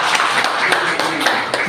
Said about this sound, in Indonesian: sekali lagi tepuk tangan buat Bapak Eko Rahmanto